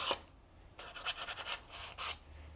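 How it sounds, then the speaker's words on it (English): Sandpaper lightly rubs back and forth over the pads of rear drum brake shoes from a 2009-2013 Toyota Corolla in a few short, raspy strokes, close and fairly quiet. "I'm just doing a light sanding here on these pads with my sandpaper"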